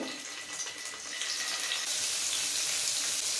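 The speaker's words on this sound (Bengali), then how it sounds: "পনিরগুলো ভাজবো। ফ্রাইং প্যানের মধ্যে অল্প একটু তেল দিয়ে দিলাম" Paneer pieces fry in a little oil in a frying pan, giving a continuous close hiss and sizzle that grows slightly louder partway through.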